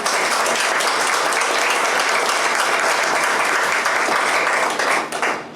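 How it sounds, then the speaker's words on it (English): Enthusiastic audience applause at a women's festival panel as a speaker is welcomed, dense loud clapping from a large crowd, sustained evenly before tapering off at the end. "Please put your hands together, Jennifer Ruggles."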